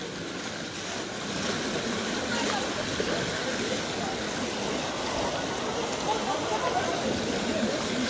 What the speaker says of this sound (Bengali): এখানে যে জলের যে শব্দটা আপনারা পাচ্ছেন যে কিভাবে জল দ্রুত গতিতে নেমে যাচ্ছে